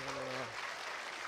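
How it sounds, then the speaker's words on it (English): Congregation at Victory Baptist Church clapping during a Sunday worship service, a dense wash of applause with a brief sustained voice tone over the first half, then steady clapping alone. "Give the Lord a shout or a hand clap."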